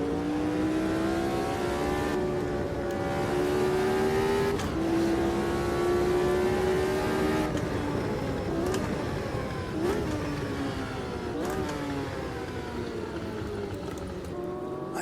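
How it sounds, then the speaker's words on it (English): A race car engine in Automobilista 2 drones loud and continuous with rising and falling pitch through gear changes, with sharp exhaust crackles and backfire pops on downshifts and overrun, no talking. "they changed the sort of backfire and crackles a bit, so they're a bit more likely to happen on downshifts and when you're on the overrun like this"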